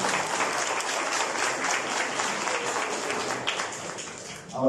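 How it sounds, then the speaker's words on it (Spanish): Sustained applause from an audience at a formal ceremony honouring a general, dense steady clapping filling the whole stretch with a brief surge at the end. "Por favor, un fuerte aplauso para el reconocimiento."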